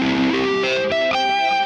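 Distorted electric guitar plays a sloppy, unmuted sweep arpeggio, with a quick run of rising notes smearing and ringing into one another in a loud, close burst.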